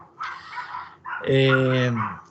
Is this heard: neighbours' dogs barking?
yes